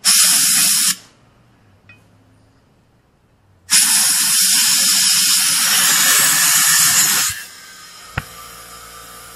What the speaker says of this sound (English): always make sure you have the valve stem out so you get the full flow of air